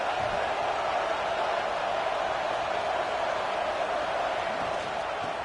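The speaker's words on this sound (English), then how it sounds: "The Tide crowd rolling noise down onto Saban Field on 3rd down" Steady, loud stadium crowd roar from an NCAA football video game, with a home Crimson Tide crowd filling Saban Field on a third down; the dense wash of noise holds level throughout with no clear peaks.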